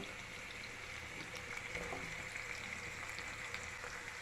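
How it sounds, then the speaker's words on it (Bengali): Yellow and green capsicum pieces lightly frying in a pan, cooking for restaurant-style chilli potato: a steady, soft sizzling hiss that runs evenly throughout with no talking. "হালকা ফ্রাই করে নিচ্ছি।"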